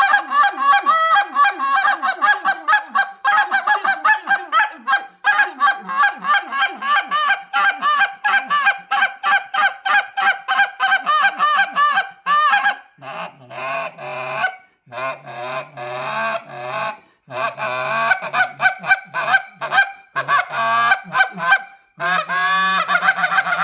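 A small Omega goose call blown by hand imitates geese, with rapid honks and clucks running nearly nonstop at first. It then breaks into shorter, choppier bursts of calls with brief gaps, loud and close.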